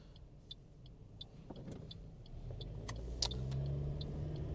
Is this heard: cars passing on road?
yes